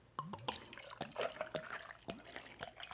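Golden rum being free-poured into a glass for Planter's Punch, a quiet, close liquid gurgle with small splashes and glugs over a few seconds.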